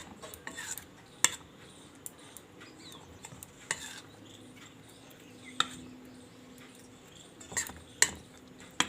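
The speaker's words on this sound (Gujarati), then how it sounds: "તો હવે આપણે આ બેટરમાં આ રીતે આપણે આમાં બોળી દઈશું" Whole bread slices stuffed and dipped into pakoda batter, with sporadic spoon clinks and soft wet stirring against a bowl, fairly quiet with sharper taps now and then.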